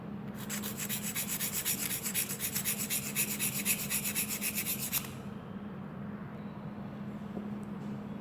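A pen nib is ground against a rough surface, giving a steady rhythmic rasping scrape for about five seconds that then stops, leaving quiet room tone.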